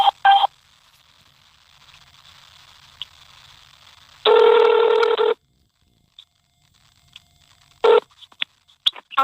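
Telephone dialing tones while placing a call: a few short beeps, then a longer one-second tone, followed by more brief beeps separated by near silence, crisp and close.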